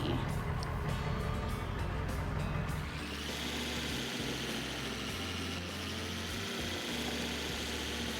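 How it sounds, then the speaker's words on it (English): Engine revving in the mudding game American Plains Mudding, a low rumbling drone that rises and then holds at a steady pitch, loud and continuous throughout with no voices. "Now I just gotta give it a rev."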